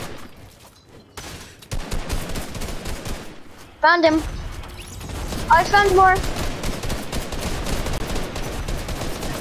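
Gunfire in Fortnite crackles in quick bursts under tense spoken voices, with sharp electronic chirps cutting through midway.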